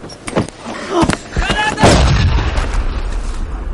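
Several sharp booming blasts go off in quick succession, loud and close, followed by a rumbling aftermath with a voice mixed in.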